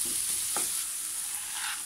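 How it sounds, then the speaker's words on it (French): Minced beef frying in a pan, a steady close sizzle with a couple of brief stirring scrapes, no voices. "Et aussitôt on vient mettre la viande hachée."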